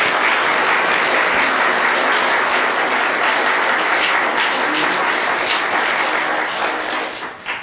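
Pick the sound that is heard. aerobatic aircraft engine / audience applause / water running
audience applause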